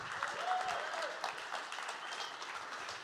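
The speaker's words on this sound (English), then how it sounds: "Give a huge round of applause to Nader." Audience at the ETHDenver 2024 closing ceremony applauding a person called to the stage; a soft, diffuse patter of clapping from a large room, steady and somewhat distant throughout.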